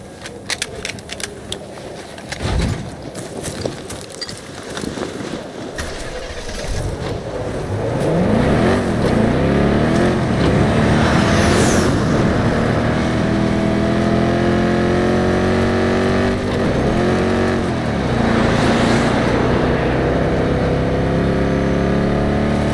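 A vehicle descends into place in Battlefield 2042 on the Orbital map: rapid clicking and ticking give way to a loud, sustained engine roar that rises and wavers, with no speech.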